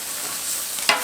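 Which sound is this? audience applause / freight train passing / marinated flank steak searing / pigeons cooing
marinated flank steak searing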